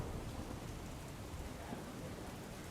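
Rain falls over Patan city in Gujarat, a faint, steady wash of rainfall with a low rumble beneath it, continuous and without voices.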